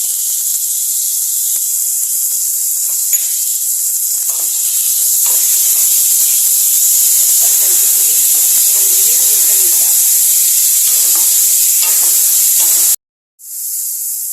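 Tomato and capsicum sizzle loudly in a hot pan for garlic pasta, a strong steady hiss that briefly cuts out near the end and then resumes.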